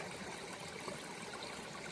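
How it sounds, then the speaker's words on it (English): A mountain stream with small waterfalls on the Pacific Crest Trail in Washington flows steadily, a soft continuous rush and babble with no voices, even and unbroken throughout. "Isn't there just something beautiful about the sound of flowing water?"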